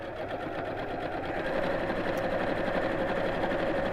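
A sewing machine runs continuously, close and moderately quiet, while top stitching straight lines about an eighth of an inch from a fabric edge, giving a fast, steady mechanical whir that picks up slightly partway through.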